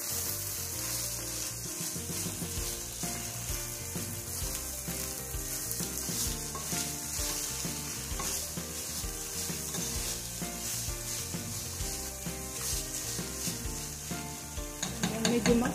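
Food sizzles and fries steadily in a pan while being stirred, a continuous close crackle with scraping stir sounds throughout and no talking.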